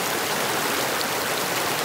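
Water in a creek rushes steadily around someone standing midstream in rubber boots, a dense, continuous close-up splashing flow with no talk.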